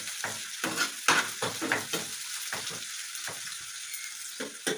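Chopped green chili and garlic fry in hot oil in a home kitchen, a steady sizzle broken by a series of bursts and scrapes as a spatula stirs the pan, close and fairly loud.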